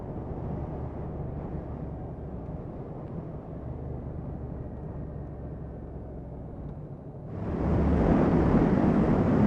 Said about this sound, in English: So I've got a pretty strong headwind.